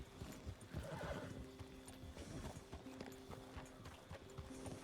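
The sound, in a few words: horses neighing and hooves in video game Red Dead roleplay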